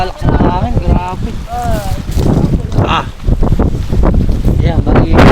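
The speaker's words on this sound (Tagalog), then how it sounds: "Napakalakas ng hangin." Strong wind buffets the microphone on open water at a tilapia fishing spot in Barangay Cupang, Muntinlupa, a steady low roar under a man's loud, close talk throughout.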